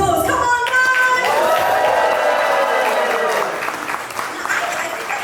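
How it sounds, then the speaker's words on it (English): Wedding reception crowd applauding with dense, sustained clapping and some cheering, loud and continuous throughout, easing slightly toward the end as a voice speaks over it. "Can we give them the biggest round of applause?"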